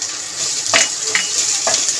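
Ginger garlic paste sizzles in a pan with browned onions for a fish head curry, a close, steady frying hiss broken by a few stirring scrapes.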